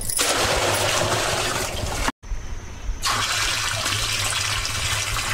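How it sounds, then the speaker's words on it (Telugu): Water gushes loudly into a drum as 100 litres are poured for a farm preparation. A continuous rushing pour is broken by one brief pause, then a steady fill resumes. "ఈ విధంగా డ్రమ్ము తీసుకున్న తర్వాత దీనిలో 100 లీటర్ల నీళ్లు పోయాలి."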